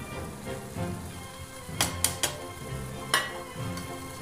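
Cauliflower and roasted coconut are stirred in a pan with a soft continuous sizzle. A spoon scrapes and clinks against the metal several times, with a few sharp knocks close together partway through.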